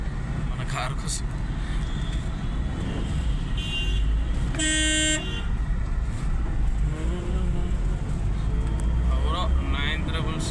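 A car horn gives one loud, clear toot amid busy road traffic near Uppal metro station in Hyderabad, heard over constant engine rumble and passing vehicles, with someone talking throughout.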